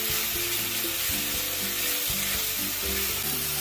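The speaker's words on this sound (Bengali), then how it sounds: "মশলাটা খুব ভালো করে কষে নেব।" Spice paste with chili powder and salt frying hard in a pan for a katla fish curry with onion greens, giving a loud, dense, continuous sizzle heard up close with no voices.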